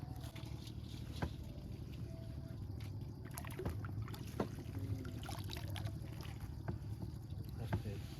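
A fishing boat glides steadily through water in the Sundarbans, a continuous low wash and rumble with faint scattered splashes and clicks.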